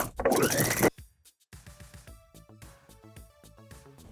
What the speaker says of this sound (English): I'm going to zigzag these pieces of elastic together.